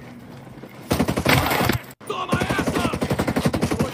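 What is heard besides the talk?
gunshots in a sniper shooter video game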